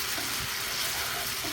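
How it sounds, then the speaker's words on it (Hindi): A spice mixture frying in oil in a pan for a tomato chutney, giving a dense, even hiss and crackle that holds steady and close for a brief moment. "इसको अच्छी तरह भून लेना है ताकि ऑयल अलग हो जाए।"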